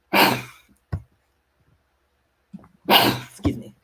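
Two sharp, loud human sneezes close to the microphone, separated by a few seconds of silence, each with a quick inhale and burst.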